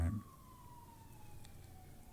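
A siren wails in the distance, a thin gliding tone drifting slowly downward over a low background rumble.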